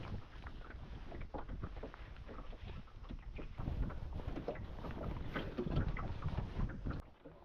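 An Ilur cruising dinghy beats upwind in a chilly southerly breeze, giving a steady rush of water and wind buffeting the microphone, continuous and fairly loud with no talking.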